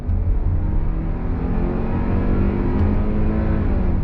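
2023 Hyundai Tucson XRT SUV engine accelerating on throttle in sport mode out of a right-hand turn, a steady loud rising drone heard from inside the cabin.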